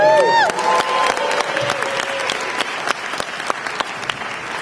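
Loud applause from a crowd at an entrepreneurship tour event in Orlando, dense clapping close by with a few whistles and cheers near the start, holding steady before tapering slightly.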